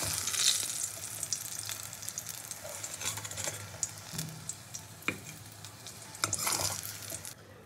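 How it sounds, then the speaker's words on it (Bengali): Eggplant frying in oil, a close sizzling hiss broken by scattered spatula clinks and scrapes against the pan. "মেথি শাকের জন্য বেগুনটা আমি খুব ভালো করে ভেজে নিয়েছি"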